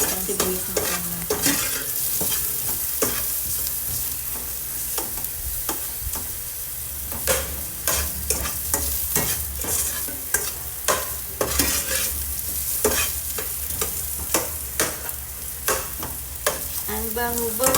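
Garlic and onion sautéing in a pan for pork adobo, an even frying sizzle throughout with frequent sharp clinks and scrapes of a spatula stirring against the pan, close and continuous, no talking.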